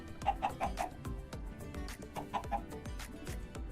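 Minecraft chickens in the FTB Interactions modpack clucking repeatedly in short bursts, with soft regular thumping steps underneath and no talk.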